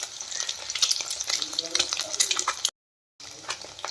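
Egg bhurji masala fries in a pan, giving a busy crackling sizzle with scraping stir strokes, close and loud, broken by a short silent gap before the sizzling resumes.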